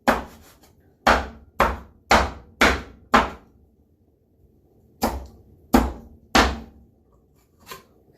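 Knife chopping vegetables on a cutting board for stone soup: six sharp, evenly spaced thunks, a pause, then three more and one softer chop, close and alone with no talk.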